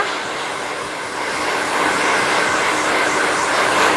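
A hair dryer blows steadily on hair during a volume perm styling with root straightening and curled ends, a loud continuous rushing airflow that swells slightly partway through, with no talking.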